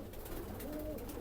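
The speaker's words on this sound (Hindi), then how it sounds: "ये सियालकोटी कबूतर है।" A male Sialkoti pigeon coos softly at a pigeon loft, a low rolling call rising and falling briefly against steady background noise.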